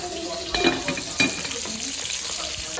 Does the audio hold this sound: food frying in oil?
yes